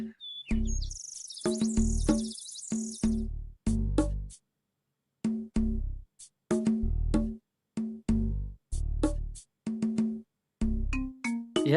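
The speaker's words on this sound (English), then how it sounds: "There was a lot of bird sounds in this song" Bird chirps and tweets woven through a piece of game music, recurring in short bursts alongside rhythmic notes, with a steady trill of high calls in the opening seconds.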